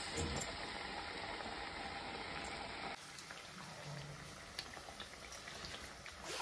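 Sweet potato puris made from bhagar flour fry in hot oil, a soft continuous bubbling hiss that stays faint and steady throughout, with no voices.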